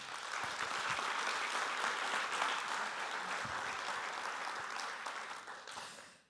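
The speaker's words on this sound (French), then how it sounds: "on peut l'applaudir" Sustained applause from an audience at a business conference, a broad, even wash of many hands clapping that holds steady, then fades away at the end.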